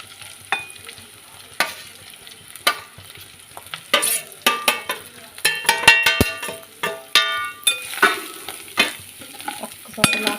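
Chicken karappodi fries in oil as masala powder is stirred in, with a steady sizzle broken by repeated scraping spatula strokes against the pan in an uneven rhythm.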